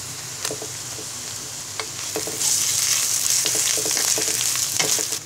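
Whole spices and ginger paste fry in a pan with a steady sizzle and repeated scraping stirs, and the sizzle grows louder and more intense partway through.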